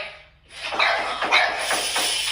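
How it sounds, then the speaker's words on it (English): A dog barks several times indoors in a home, the short sharp barks fairly close and steady over a constant background hum. "That's why my dog's sitting here barking."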